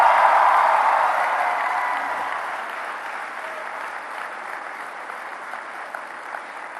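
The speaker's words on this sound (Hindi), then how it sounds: "आइए प्रधानमंत्री जी की मानक उपस्थिति और मार्गदर्शन के लिए बहुत बहुत तालियों के साथ उनका धन्यवाद करें।" Sustained applause from a conference audience at the Semicon India 2023 event in Gandhinagar, loudest at the start and slowly tapering into a steady, dense patter of many hands clapping at moderate distance.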